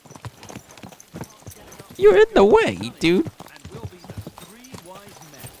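Horse hooves clip-clop in the medieval game Kingdom Come: Deliverance, a steady rhythm kept low under ongoing talk and other game sounds.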